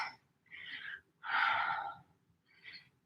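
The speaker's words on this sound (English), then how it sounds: "I've just got my heavy breathing for company." Heavy, breathy exhalations during a low-impact yoga HIIT workout come in four close, loud bursts separated by brief pauses, with no talking.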